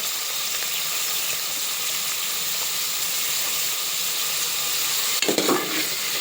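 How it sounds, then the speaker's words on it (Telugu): Onion pieces frying in oil in a pan for mutton curry, making a loud, constant hissing sizzle, then a burst of stirring and spattering near the end. "మంచి గోల్డ్ కలర్ వచ്చేంత వరకు వేయించుకుందాం ఫ్రెండ్స్."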